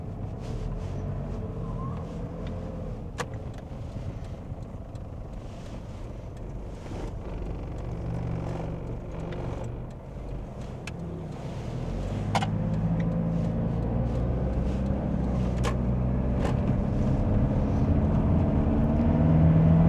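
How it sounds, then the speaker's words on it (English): Steady diesel drone of a 1999 Toyota Hiace KZH106 van with a 3-liter turbo diesel, heard from inside while driving: low continuous rumble that grows louder partway through, with a few faint clicks. "this is a 3-liter turbo diesel"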